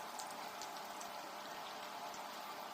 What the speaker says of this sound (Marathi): आणि मीडियम गॅसवर आपल्याला आता वड्या तळून घ्यायच्या आहेत.